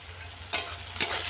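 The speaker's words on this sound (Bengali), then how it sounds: "পেঁয়াজটা আগে লাল লাল করে ভেজে নিয়ে তারপরে মশলাটা দেবো" Onions fry in a pan with a steady sizzle, and two brief louder bursts of stirring or scraping come close by.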